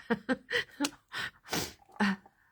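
A single close sneeze preceded by a few quick sharp intakes of breath, loud and isolated with no talking.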